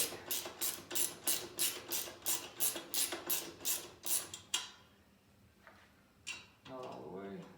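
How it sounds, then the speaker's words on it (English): A ratchet with a 10mm socket tightens a bolt on a KTM 1090/1190/1290 Adventure pannier rack in about a dozen even, close clicking strokes, followed by quieter handling noises and someone speaking. "Gonna put the wrench on the inside, ratchet on the outside, and tighten it away."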